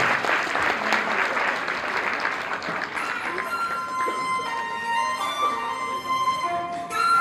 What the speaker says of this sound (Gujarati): તાળીઓ પડતી રહેવી જોઈએ.